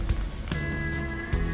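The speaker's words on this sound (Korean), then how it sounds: "그러나 아쉽게도 아침부터 비가 내리기 시작합니다." Winter rain falls on a small island village, a steady patter of drops filling the background with a faint tonal hum and a couple of soft knocks.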